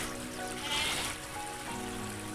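Rainwater gushes through a small drain in a steady, close, rushing flow with a faint trickling texture, continuous and with no voices.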